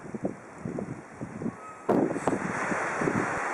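Gusty wind buffets the microphone in rumbling bursts on a winter hilltop in Margeride, Lozère, France, growing stronger and more constant partway through, loud and close.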